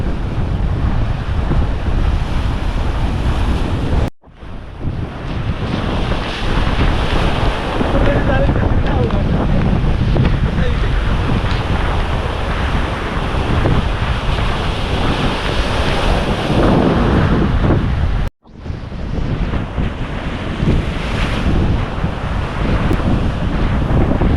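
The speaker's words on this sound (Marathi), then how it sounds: "इकडून अशा मोठ्या मोठ्या लाटा येतात" Big sea waves rolling in at Mandvi beach in Ratnagiri on the Konkan coast during rain, a continuous loud roar of surf with heavy wind buffeting the microphone and two brief dropouts.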